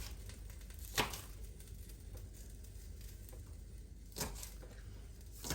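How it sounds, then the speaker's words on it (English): A knife chops spring onion on a cutting board with soft, faint thuds, a couple of sharper knocks standing out over a quiet background hiss in a kitchen. "So you just want to be chopping up some spring onion and then adding it into the cooking pot as you go."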